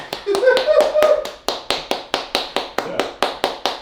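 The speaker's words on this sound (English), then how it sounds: "Round of applause" A single person clapping in a steady, evenly spaced rhythm of sharp hand claps, close and clear, with a voice talking over the first second or so.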